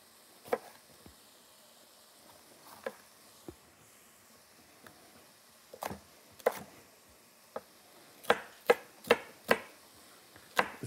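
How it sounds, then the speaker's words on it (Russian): A kitchen knife cuts green bell pepper into diamond shapes on a cutting board for Sichuan noodle soup. Sparse, crisp chops come at first, then a quicker run of close strikes near the end. "Я нарежу вот такими ромбиками."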